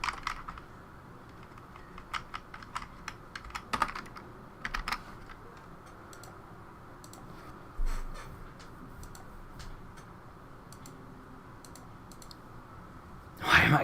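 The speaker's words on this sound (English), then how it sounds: "Why am I clicking buttons that I know are not gonna work?" Scattered computer clicks and keyboard taps come from someone working in WordPress: irregular bursts of sharp, close clicks spread over about fourteen seconds, with a couple of louder thumps and a faint background hum.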